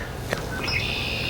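A brief bird sound effect: a couple of short, bright chirps followed by a rising whistled squawk, heard close and clear over a steady hiss of background noise.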